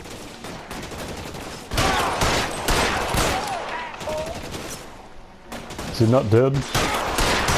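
Loud, rapid bursts of gunfire from the L.A. Noire video game crack repeatedly throughout, with a voice talking over the shots.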